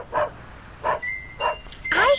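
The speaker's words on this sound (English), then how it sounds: "I hear a dog barking." A dog barks in a children's television program, giving four short, sharp yips at a moderate distance, evenly spaced and ending with a slightly longer, rising whine-like bark.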